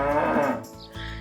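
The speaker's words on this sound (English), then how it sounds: "Cow." Cow moo, loud and close, a single drawn-out low lowing call lasting just over a second.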